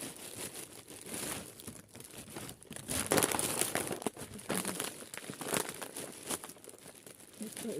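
Plastic-wrapped package being opened by hand, giving close, quiet crinkling and tearing rustles in irregular bursts throughout.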